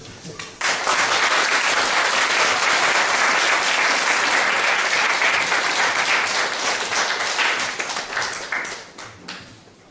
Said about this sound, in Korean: 박수를 많이 하면 좋겠습니다